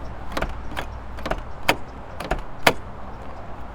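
A stuck car door on a vehicle at a public auto auction is tugged repeatedly, giving a series of sharp metallic clunks and latch clicks at an uneven rhythm, close by against a low background hum.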